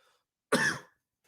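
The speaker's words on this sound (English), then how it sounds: "Ooh, coughing from coffee." A single short, close cough bursts out of near silence, one harsh throat-clearing hack lasting under half a second.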